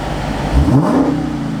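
A V8 engine in a Dodge Demon SRT muscle car revs up with a deep rising roar, peaking briefly then settling back to a loud, rumbling idle.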